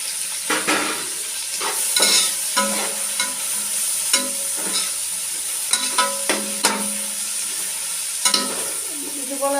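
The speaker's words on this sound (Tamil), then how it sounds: "இந்த டைம் வந்து புதினா போடுங்க. எண்ணெயில் வதங்கட்டும்." Mint leaves fry in oil for a prawn biryani, a steady close sizzle broken by repeated scraping stirs of a utensil against the pot, with no voices.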